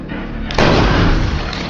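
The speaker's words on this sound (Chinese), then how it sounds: "大爷忙开数枪，并未命中。" Gunshots fired during a tense scene in the horror film Don't Breathe, a loud blast cutting in abruptly over a dense, rumbling background, with no talk.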